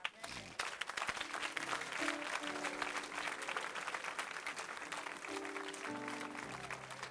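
A church congregation claps together in praise of the Lord at a worship service, dense sustained applause with voices and music mixed underneath.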